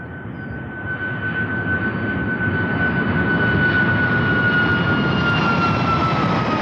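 A WestJet Boeing 737 MAX 8 jet departs Toronto Pearson, its engines a steady, loud broadband roar with a faint whining tone that builds slightly and holds throughout, with no voices over it.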